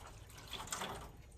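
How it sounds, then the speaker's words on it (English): Liquid pours into a foil pan beside a charcoal grill being lit for smoking crab legs, a soft, steady trickle and splash lasting about a second and a half, faint and close, with no talking. "let's pour this into this foil pan right here"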